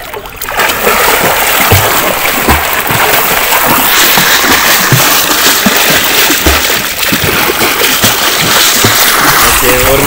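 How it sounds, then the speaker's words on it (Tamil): A person learning to swim thrashes in the water during a lesson, producing loud, continuous splashing and churning close by, with voices talking over it throughout. "இவரை பார்த்து ஸ்விம் பண்ணுங்க."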